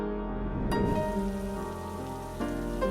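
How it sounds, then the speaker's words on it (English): Steady rain falling on a surface on a wet morning, a continuous even patter with a soft swell near the end, no voices present. "It was a rainy morning."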